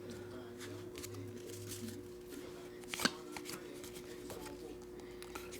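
Baseball cards from a 2023 Topps Series 1 hobby box are handled close by, with soft shuffling, sliding and flicking sounds and a sharper snap partway through, all quiet over a low background hum.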